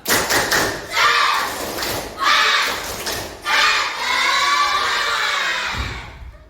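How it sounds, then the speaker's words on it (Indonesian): Classroom children perform a rhythmic spirit clap in bursts, clapping and shouting together in loud, close groups separated by short pauses, ending with a thud. "Tepuk semangat."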